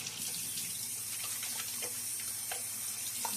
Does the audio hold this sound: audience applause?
no